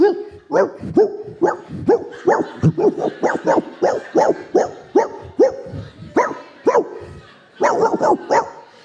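A man imitates a dog on stage, barking on the inhale in a rapid run of short, loud yapping barks, close and steady, with brief pauses between bursts.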